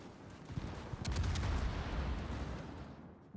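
Battleship secondary guns fire in a naval video game, a steady stream of distant booms and cracks rumbling through a faint, continuous battle din.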